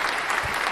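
A brief burst of applause, a quick round of clapping that lasts under a second.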